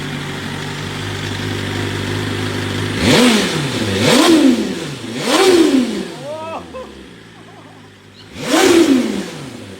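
A motorbike engine idles low and steady, then roars through four sharp revs, each climbing fast and falling away, loud and close, with a short lull before the last burst.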